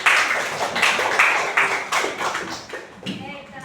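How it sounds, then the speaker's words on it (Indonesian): Classroom clapping for a student named Dika, a burst of several hands clapping close by in uneven, distinct claps that thin out toward the end. "Kasih tepuk tangan tuh Dika"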